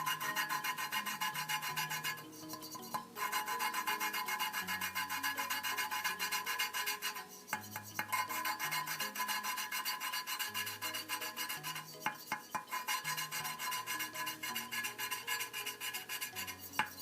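Lapping a valve on a Honda VF750F engine gives a steady gritty rasping and rubbing, repeated back-and-forth strokes with brief pauses as the valve is repositioned, close and quiet.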